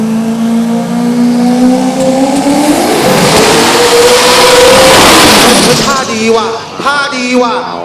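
A drag racing car engine revs hard at a race day and climbs in pitch, roaring loudly up close before easing off; voices briefly chatter near the end.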